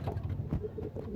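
Racing pigeons coo softly in a brief, close, low murmuring burst of throaty calls with no talking.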